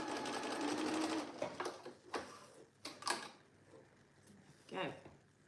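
A sewing machine stitches a dart on a jacket with a loud continuous whirring run at first, then shorter bursts and pauses with clicks from the mechanism, close by.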